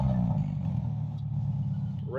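A 2011 Subaru Impreza 2.5L non-turbo AWD with a 3-inch straight-piped cat-back exhaust rumbles loudly up close, holding a raspy rev before rising sharply at the very end.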